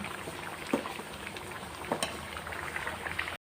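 Taro leaf curry with ground masala coming to a boil, giving a dense, steady bubbling with a few louder pops, close by and with no voices, before cutting off abruptly.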